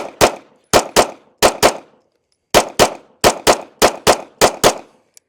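Staccato pistol gunshots fired in quick pairs and a longer rapid string, about twelve loud, sharp cracks with short pauses between groups, close and with no talking.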